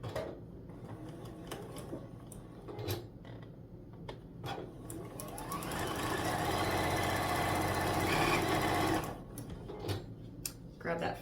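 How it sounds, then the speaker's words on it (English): A sewing machine stitches quilt block pieces together for a pieced snowman border, running in a steady, fast mechanical hum for several seconds between stops and handling noises. "we're gonna sew those together."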